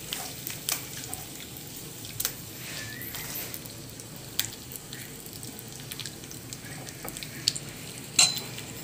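Asafoetida and dried red chilies sizzle in hot oil as a tempering, a faint steady crackle with a few sharper pops and spits, no voices.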